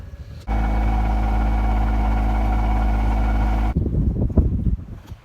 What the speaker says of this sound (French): on vient enfin d'éteindre le moteur après 7 heures